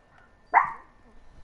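A single sharp dog bark in a room, loud and close, sounding once against an otherwise quiet background during a gaming session.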